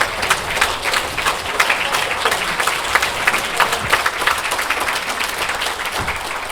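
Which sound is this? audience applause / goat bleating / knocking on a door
audience applause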